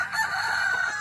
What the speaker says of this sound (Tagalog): May nakawalang manok.